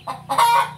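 A rooster in a backyard makes a short low clucking call while arranging a nest for a hen, close and clear, under a second.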